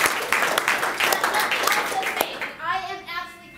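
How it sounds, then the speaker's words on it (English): Audience applause at a university neurohackathon event, dense clapping that tapers off after a couple of seconds, followed by a voice beginning to speak. "So big round of applause for everybody again."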